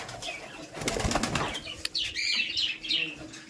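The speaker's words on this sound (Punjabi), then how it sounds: "ਉੱਪਰ ਉੱਡਣ ਵਾਲੇ ਕਬੂਤਰ ਰੱਖੇ ਹੋਏ ਆ" A burst of pigeon wings flapping close by, fluttering in quick beats, followed by a few soft chirps and coos from birds nearby.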